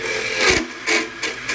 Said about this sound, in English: Now let's put the scraping tool up there.